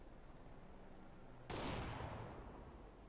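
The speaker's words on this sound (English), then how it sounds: "The amount of shots going off across the map" A sudden burst of CS:GO gunfire cuts through steady background noise, with a sharp loud onset and a long fading decay, like shots ringing across a map.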